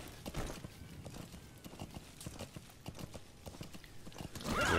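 Horse hooves clip-clop in a steady walking rhythm with an occasional whinny in the Metal Gear Solid V: The Phantom Pain video game, fairly close and continuous, growing louder near the end.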